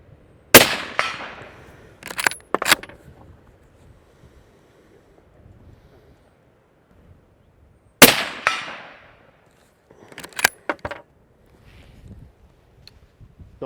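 Rifle shots fired off sandbags from a new Blaser stock, two sharp loud cracks about seven seconds apart, each followed by a brief echo and small handling clatter, with steady outdoor wind noise between.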